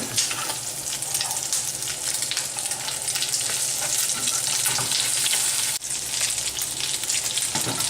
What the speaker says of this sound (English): Getting a nice good sear on these, so it's going to get nice and crispy.